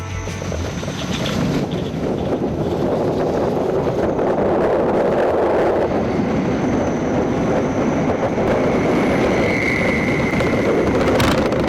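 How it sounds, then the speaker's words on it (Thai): An NIU electric motorcycle ridden on mountain roads around Chiang Mai, with constant loud wind buffeting the microphone and a low rolling road rumble throughout. "ขี่เจ้านิว คันนี้นะครับมอเตอร์ไซค์ไฟฟ้า"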